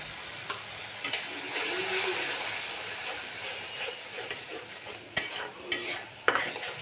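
Mustard spice paste with salt stirred and fried in a pan, a steady soft sizzle under scraping spoon strokes, with a few sharper clinks of utensil against metal near the end.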